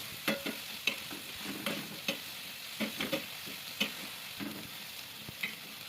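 Chopped onion fries in hot oil for a Kathiyawadi tomato-garlic chutney, giving a soft continuous sizzle broken by irregular scraping taps of a spoon stirring the pan.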